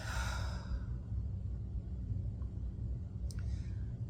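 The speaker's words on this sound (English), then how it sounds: "Another deep breath in and out." A slow, deep exhale during guided meditation, soft and close, trailing off into quiet room tone with a faint low hum underneath.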